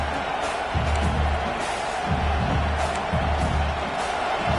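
Football stadium crowd at a Kentucky versus Michigan game, a steady roaring wall of crowd noise with rhythmic swells of cheering throughout.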